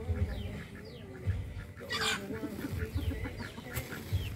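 An angry male turkey gobbles and clucks agitatedly at a moderate distance, with scattered bird calls and a faint murmur of people in the background.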